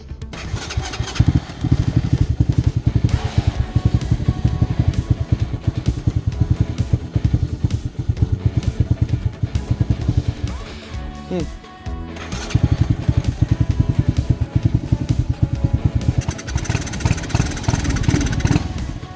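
A Lifan KP Mini 300 motorcycle with a 4-valve ZS175FMN engine runs roughly and misfires, a loud, close, uneven engine drone that dips briefly midway and picks up again, with someone talking over it.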